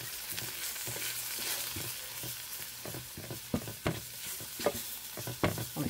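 Enchilada sauce thickened with flour sizzles in a pan while a utensil stirs and scrapes it, soft frying hiss under irregular close scraping taps.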